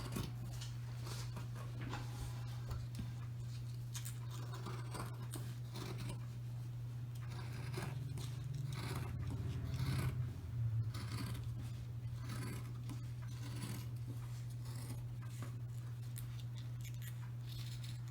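Scissors snip through several layers of dress fabric at once along a high-low hem line, giving soft, steady cutting and scraping sounds over a constant low hum, with no talking.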